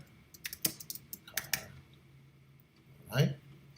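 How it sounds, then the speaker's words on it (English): Scattered clicks of typing on a computer keyboard, a few quick keystrokes in short clusters, faint and close, with a brief voice near the end. "I'm going to type in here."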